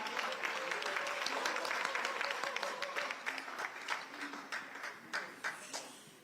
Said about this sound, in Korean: 한성숙 신임 국무총리를 큰 박수로 맞이해 주시기 바랍니다.